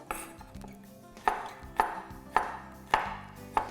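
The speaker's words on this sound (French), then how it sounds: "on va les hacher avec le couteau, on ne va pas juste les écraser" Five crisp knife chops strike a cutting board at a steady, even pace, each a bright close knock with a short ring, following a softer stretch of handling.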